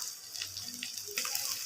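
Water splashes and gurgles as a glass of it is poured into a pan of frying spice paste and oil while making fish kofta curry, with a soft sizzle and a brief louder splash near the end.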